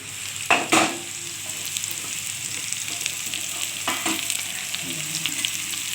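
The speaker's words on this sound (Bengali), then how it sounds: "আলুটা ভালোভাবে ভাজা হয়ে গেলে চাল কুমড়োটাও এর সঙ্গে ভেজে নেব" Potato and ash gourd fry in a pan with a continuous close sizzle, broken by two sharp stirring scrapes early on and softer spatula clatters later, and no speech.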